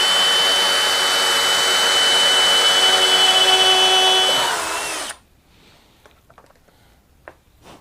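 A power drill whines loudly and steadily as its bit bores out a broken exhaust bolt on a 1976 Honda Elsinore MR175, then cuts off abruptly, leaving faint clicks and handling noise.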